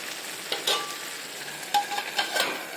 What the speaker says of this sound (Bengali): শাকটা ফুটতে লাগছে।